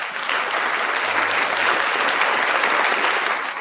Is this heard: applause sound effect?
yes